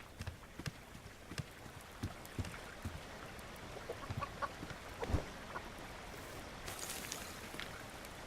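Chickens clucking in the survival game Subsistence, scattered short soft clucks and scratchy taps spread over a faint outdoor ambience, fairly quiet and without any voices.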